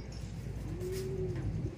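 Low, throaty cooing from pet pigeons, a soft drawn-out coo rising and falling over about a second, fairly close, with quiet rustling around it and no talking.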